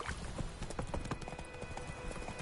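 Roach, a horse in The Witcher 3, trots with steady, close clip-clopping hooves over a busy game soundscape.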